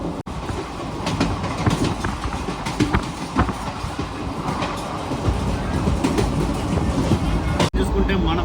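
Pamani Express passenger train running through Chandragiri railway station without stopping, heard from on board as a steady, loud rattle and clickety-clack of wheels over the rails, with a few sharp knocks.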